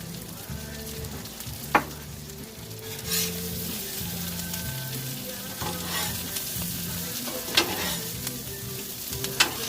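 Food frying on a Blackstone griddle over low heat while it is mixed, steady sizzle with repeated spatula scrapes and a few sharp metallic clicks, no talking.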